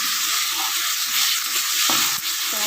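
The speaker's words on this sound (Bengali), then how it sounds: "এদিকে আমার মশলা দেখি ভাজা হয়ে গেছে" Spices frying in a pan for a Bengali mushroom dish, giving a steady, close sizzle and hiss with a few stirring clatters throughout, no talking.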